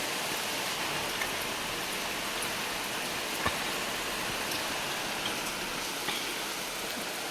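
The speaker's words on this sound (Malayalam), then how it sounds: "പുറത്ത് നല്ല മഴയാട്ടാ" Heavy rain pours outside in Kannur during a red alert, a dense, even hiss of rainfall with occasional distinct drips and splashes, steady throughout with no voices.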